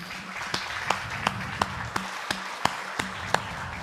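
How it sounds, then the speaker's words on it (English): A small conference audience gives sparse applause after a technical talk: a few isolated, evenly spaced claps, fairly faint, with a low hum beneath and almost no voices. "Let's give you a round of applause"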